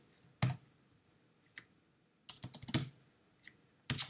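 Keystrokes on a computer keyboard while writing Objective-C code, heard as scattered single clicks and then a quick close burst of typing, with no talk over them.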